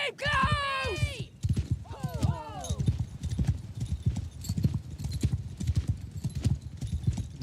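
Horse-archer cavalry hooves clip-clop in a Total War Warhammer game battle, a quick steady gallop of close, loud hoofbeats that runs the whole way through, with a couple of whinny-like calls near the start.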